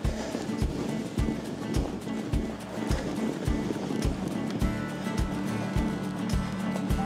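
A small stream flows through snowy Finnish terrain, its steady broadband rush continuous and fairly close, punctuated by regular soft thumps throughout; no one speaks.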